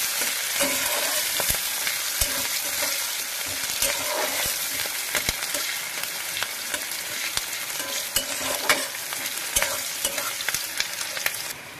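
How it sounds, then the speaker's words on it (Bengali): Onions stirred and fried in a pan, a constant loud sizzle broken by frequent sharp scrapes and clicks of the spatula against the metal, close and without talk. "পেঁয়াজটা দিয়ে ভালো করে নেড়ে চেড়ে নিচ্ছি।"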